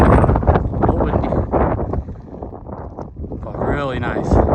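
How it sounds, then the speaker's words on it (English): Gusty wind buffets the microphone in a steady low roar on a mountain summit in the Adirondacks' MacIntyre Range, with a person talking over it throughout. "A little windy"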